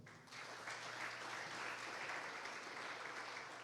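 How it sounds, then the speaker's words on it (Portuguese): A church congregation applauds during a sermon, a steady wash of many hands clapping that sounds distant and fairly faint, with no talk over it. "Aplauda o Senhor."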